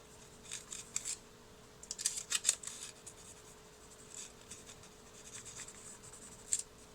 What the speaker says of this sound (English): I'm gonna kind of sketch him in a little so I can